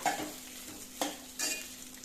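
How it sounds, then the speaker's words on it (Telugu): Rice and salt are stirred in a pan, with a spoon scraping in a few short strokes over a faint sizzle. No one speaks. "ఇదంతా ఒకసారి కలపాలండి ఇలా"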